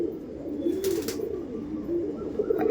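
A flying pigeon, a breed kept for sport flying, coos softly and close by in low, rolling murmurs across a few seconds, with a brief higher rustle partway through.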